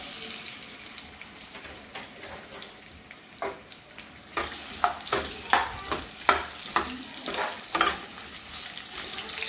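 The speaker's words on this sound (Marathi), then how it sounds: "मी आता कढईमध्ये तेल टाकले. त्याच्यामध्ये मी आता कांदा टाकते." Onion sizzles in hot oil in a kadai, starting as a soft hiss and turning into louder crackling with repeated sharp stirring scrapes near the middle, close up and without voices.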